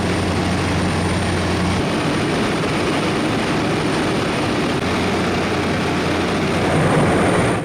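A constant loud propeller-engine drone fills the clip, steady and close, heard from inside a small plane in flight over British Columbia, Canada.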